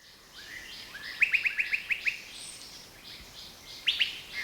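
Fruit-eating forest birds in Satchari forest, Sylhet: a quick run of about seven bright, evenly spaced chirps rings out, followed after a pause by two more, mid-distance over a quiet backdrop.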